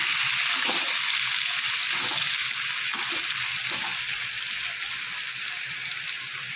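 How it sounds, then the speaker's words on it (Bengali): Vegetables, including potato pieces, frying in a pan for Bengali ol dalna, an elephant foot yam curry, giving a steady, even hiss of hot oil with faint bubbling that carries on without a break and with no talking. "দিয়ে একটু কিছুক্ষণ ভেজে নেবো"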